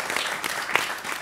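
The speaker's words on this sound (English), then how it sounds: "applause for all of you" An audience applauds a panel at a discussion on cleaning India, steady dense clapping heard at a moderate distance for a moment with no voices.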